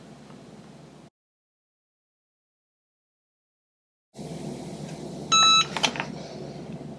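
Cricut EasyPress timer beeping when done, a short burst of clear high electronic beeps over a steady background hiss after a silent gap.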